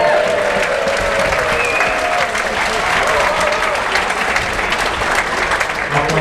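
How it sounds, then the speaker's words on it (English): Audience at a live comedy show at the Edinburgh Fringe breaks into loud, sustained applause, a dense continuous roar of clapping from a full room with no break. "Give him a round of applause."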